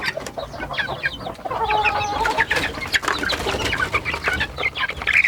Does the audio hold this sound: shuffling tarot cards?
no